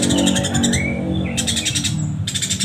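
A lovebird sings close up, mimicking the quarrelsome chattering calls of fighting sparrows in quick repeated bursts of high chirps, with brief pauses between phrases.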